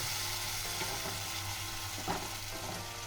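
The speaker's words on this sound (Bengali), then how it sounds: "এটা একটু কিছুক্ষণ নাড়াচাড়া করে নেব" Doi katla curry sizzles in a pan while being stirred, a steady moderate frying hiss with a few soft scraping clicks from the spoon, close and without talk.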